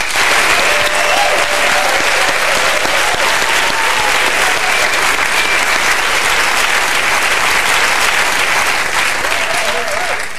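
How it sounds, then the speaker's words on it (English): A studio audience applauds a mystery guest on a British comedy sports quiz panel show, producing a loud, dense, sustained wash of clapping that runs unbroken for about ten seconds, with faint voices buried underneath. "great round of applause"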